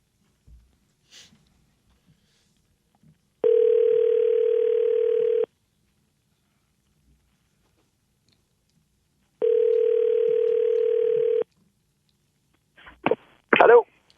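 A telephone plays a steady dial tone in two clear bursts of about two seconds each, set apart by quiet, followed by a few soft handling noises and a short breathy cough or sneeze near the end.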